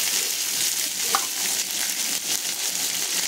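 Ginger paste fries with a large batch of vegetables for a Bengali shukto, producing a bright, steady sizzle up close with a brief clink of stirring partway through.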